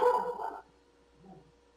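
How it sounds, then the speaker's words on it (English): A single short dog bark up close at the start, followed by a faint low whine or growl, with no talking. "Was that a ghost dog?"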